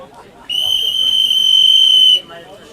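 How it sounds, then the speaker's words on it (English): A timekeeper blows a referee whistle to resume play at a women's Australian rules football grand final. One loud, steady, shrill blast lasts under two seconds over faint crowd murmur. "There is the whistle."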